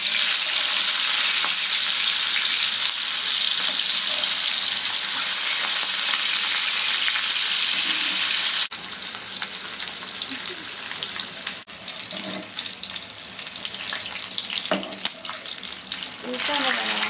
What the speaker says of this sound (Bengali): এভাবে একটু কড়া কড়া করে ভাজা করে ইলিশটা খেতে কার না ভালো লাগে বলুন তো।